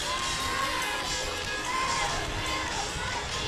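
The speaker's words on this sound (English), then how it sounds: "They are cheering it on." Crowd cheering and shouting at a Christmas parade with children and athletes' parents among them, a steady, busy wash of voices and whoops held at an even level throughout.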